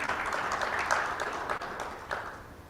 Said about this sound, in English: So big round of applause to all of them.